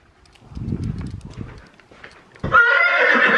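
A horse on a farm, stirred up by a new mare, moves with muffled hoof thuds and clip-clop, then bursts into a loud, close, sustained neigh in the final second.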